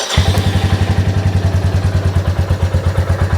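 A Royal Enfield 350 motorcycle with its stock OEM air filter idles close up, its single-cylinder thump steady and loud with a clattery mechanical edge throughout.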